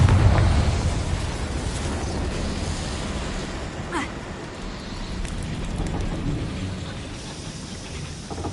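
A blasting-spell explosion erupts in a loud, rumbling burst at the start, then decays into a long noisy roar with scattered crackles and a brief sharp zap.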